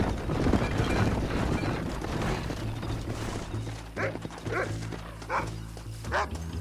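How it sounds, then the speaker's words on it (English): A dog barks several times in short sharp bursts over a steady Red Dead Redemption game soundscape with hoofbeats and background noise. "That dog needs to shut up."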